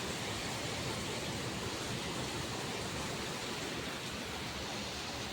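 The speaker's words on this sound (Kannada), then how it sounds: "ಮಳಿ ನೋಡ್ರಿ ಮಳಿ ಹೆಂಗೆ ಹೊಂಟದ" Heavy rain pours around a house with water flowing and filling the area, a dense, constant rushing wash that stays even throughout, with no talking.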